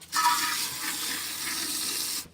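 Water from a garden hose set to shower spray pours into a container, a steady rushing hiss that starts abruptly and stops near the end.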